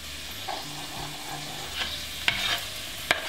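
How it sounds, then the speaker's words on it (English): Saltfish and seasonings fry in a pan, a soft close sizzle with scraping stirs and two sharp utensil clinks near the end, no speech. "We just want to fry it, combining the flavours."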